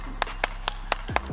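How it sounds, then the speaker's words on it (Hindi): Five sharp, evenly spaced hand claps ring out close and distinct at a roughly regular rhythm, with a faint voice starting near the end. "सबसे पहले भाई के लिए ताली बजा दो यार"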